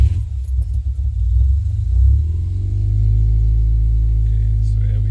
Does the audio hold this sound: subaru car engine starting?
yes